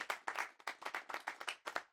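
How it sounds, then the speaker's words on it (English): A small audience applauds a boxing coach with sparse, distinct claps from a few people, fairly close and quiet, in a quick uneven rhythm with short gaps between bursts. "you guys give him a round of applause"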